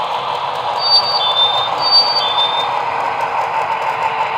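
A Broadway Limited Imports PRR EMD E7 diesel model locomotive's sound decoder brakes to a stop with a steady droning hum, with a few thin, high squeals as the brakes take hold.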